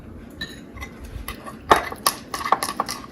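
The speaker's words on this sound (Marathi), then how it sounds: "आता आपण हे सगळं चांगलं छान हलवून घेऊया" A utensil stirs chicken malai kebab marinade with cream in a bowl, giving soft mixing sounds and then a quick run of close metallic clinks and taps against the dish.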